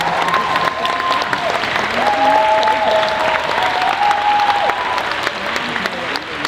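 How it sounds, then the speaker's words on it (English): Audience applause at a conference talk in an arena in Philadelphia, dense steady clapping from a large crowd sustained throughout with a few faint voices mixed in. "Let's give her a round of applause."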